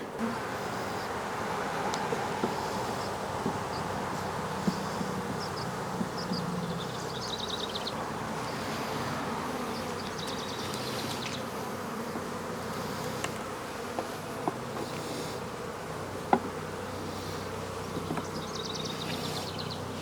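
Steady, dense buzzing of many package honeybees around a hive during an inspection, a continuous low drone with occasional sharper individual buzzes close by.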